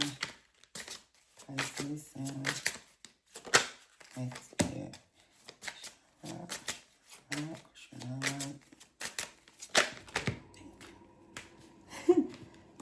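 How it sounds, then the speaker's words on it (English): Tarot cards being shuffled by hand in repeated quick riffles and snaps, close and fairly quiet, with brief bursts of talk in between. "I had already did these, so I'll just shuffle."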